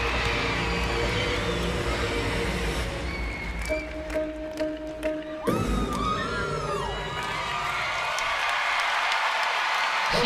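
A crowd of about 13,000 at a college gymnastics meet, Penn State at LSU, cheers, whoops and applauds a floor routine, loud and sustained throughout, with a brief tonal sound midway and a commentator's voice faintly underneath.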